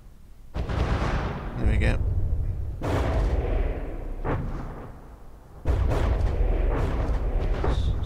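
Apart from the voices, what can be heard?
torpedoes and gunfire hitting ship in video game From the Depths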